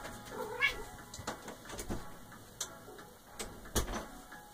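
A pet cat meows repeatedly to be let out, several short nearby cries spaced irregularly over a faint ticking background.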